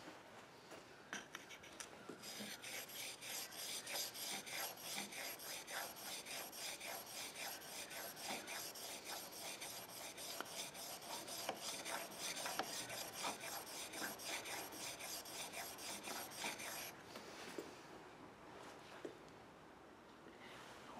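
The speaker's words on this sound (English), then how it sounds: "Once you've got that edge honed, you don't have to hone the whole face, just the edge." A tool's cutting edge honed on a stone, a steady rhythmic rasping of metal scraped back and forth, close and fairly quiet, pausing briefly near the end.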